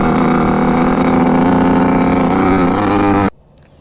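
A vintage Kawasaki dirt bike engine roars at full throttle, a loud, steady buzzing drone that holds for about three seconds and then cuts off abruptly into near silence.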